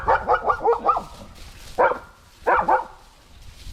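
A sheepdog barks close by: a quick run of several barks, then two more short bursts after pauses, with no one talking.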